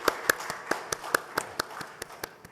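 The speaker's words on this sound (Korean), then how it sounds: "우리 3분의 수료자 우리 축하드리면서 박수로 함께 하겠습니다" Sparse applause at a Sunday church service for three course graduates: about a dozen separate, evenly spaced claps, fairly faint, as if from only a few people.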